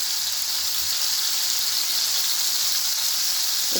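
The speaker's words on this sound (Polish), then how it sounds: "kładziemy na ten olej nasz stek i teraz musimy go bardzo mocno odsmażyć z każdej strony tak na takim szybkim, mocnym ogniu" Beef steak searing in hot oil over a high flame, a loud continuous sizzle with steady bright hiss and no pause throughout.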